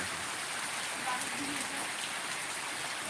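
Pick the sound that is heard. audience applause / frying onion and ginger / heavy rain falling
heavy rain falling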